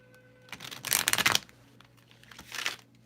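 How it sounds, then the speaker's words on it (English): A deck of oracle cards being riffle-shuffled close by, a crisp rapid fluttering burst followed by a shorter second riffle, with no talking. "Let me do one shuffle."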